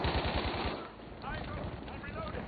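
A light machine gun fires from the hip in a video game, letting out rapid, loud, continuous bursts of automatic fire with a brief dip partway through, while a voice talks over it.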